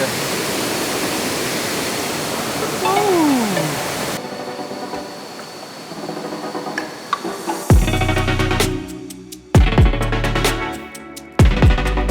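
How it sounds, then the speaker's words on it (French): Rushing waterfall roar on Phu Quoc island, Vietnam, fills the first few seconds as broadband hiss, then gives way to quieter background with sharp knocks and bumps nearby. "magnifique cascade"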